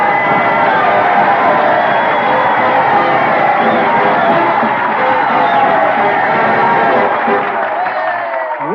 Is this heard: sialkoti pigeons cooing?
no